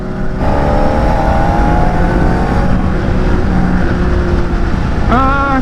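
A Honda CBR600RR sport motorcycle engine runs loud and steady close by, its pitch climbing slowly as it revs, with a sharper rising whine breaking in near the end.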